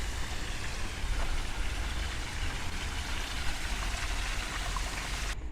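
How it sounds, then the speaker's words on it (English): Indoor waterfall inside a Victorian seaside hotel in Blackpool, a steady broadband rush of splashing water that holds evenly from start to finish, close by and with no talk over it. "There's even a waterfall in here."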